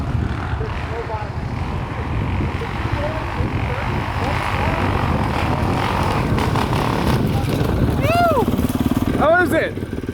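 A dirt bike engine drones steadily on a wooded trail ride, with a constant motor hum throughout and two sharp revs rising in pitch near the end.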